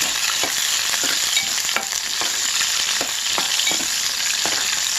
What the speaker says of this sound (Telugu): ఆనియన్స్ని బాగా వేయించుకున్నాను ఫ్రెండ్స్